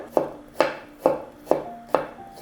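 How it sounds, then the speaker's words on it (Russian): An onion is finely diced with a knife in five regular, close chops, each a sharp crunching tap on the cutting board followed by a short fade, with no voices. "Теперь нарезаем мелко одну луковицу или половинку большой луковицы"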